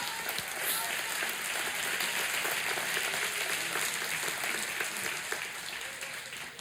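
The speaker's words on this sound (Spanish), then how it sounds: "Dale un aplauso a Dios." A church congregation applauding together in a large hall, a full, sustained roar of clapping that holds steady and then slowly fades, with a faint voice beneath it.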